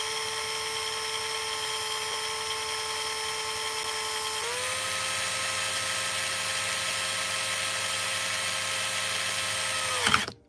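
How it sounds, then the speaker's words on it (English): A power drill bores into a graded trading card slab with a loud, sustained whine that drops in pitch midway as the bit bites, then cuts off abruptly at the end. "Have we ever drilled a tag slab before?"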